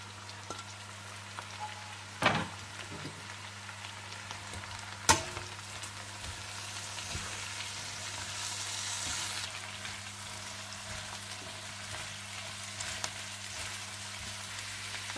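Cabbage, capsicum, carrot and green onion are stir-fried in a pan for chicken chow mein, giving a quiet, steady sizzle broken by a couple of sharp utensil clatters against the pan.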